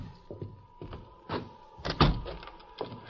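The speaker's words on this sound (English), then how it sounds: "We'll leave him here and lock the door." A door closing and locking in an old-time radio drama, a few muffled thumps and clunks followed by a sharp latch click, close and spaced out.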